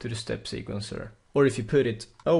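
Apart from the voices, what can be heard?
No everyday noise stands out behind the speech.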